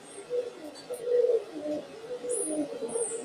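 Soft, low cooing from pigeons repeats in short phrases, with faint higher chirps from other birds now and then.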